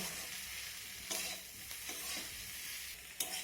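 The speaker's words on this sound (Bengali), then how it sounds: "এখন সব কিছু আবার আমি নেড়ে চেড়ে ভালোভাবে ভেজে নেব।" Cauliflower leaves and potato stirred and fried in a pan, with a steady sizzle and a few louder scraping stirs near the start, middle and end; no talking.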